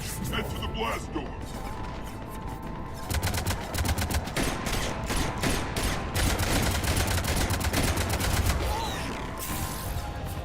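Cannons firing in the video game Mass Effect 3, a rapid barrage of sharp, crackling blasts with mechanical clatter that runs almost continuously and grows heavier midway.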